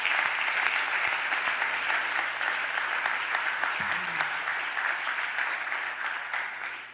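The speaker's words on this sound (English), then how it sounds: "Let's give all of our employees a round of applause." A crowd applauds city employees at a local government gathering, with sustained, even clapping throughout that slowly tapers toward the end.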